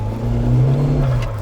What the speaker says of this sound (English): It's got plenty of turbo chatter.